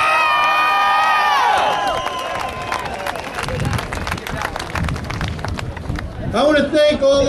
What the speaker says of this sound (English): Give those presidents a round of applause